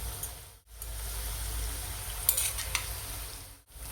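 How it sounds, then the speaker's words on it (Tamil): Sliced taro root fries on a dosa griddle, giving a steady close sizzle with a couple of brief scraping and clinking touches from a spatula, and no voices. "தோசைக்கல்லில் போட்டு ஒவ்வொன்றா போட்டு நம்ம வறுத்து எடுத்துக்கலாம்"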